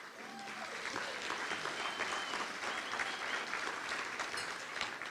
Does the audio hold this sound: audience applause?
yes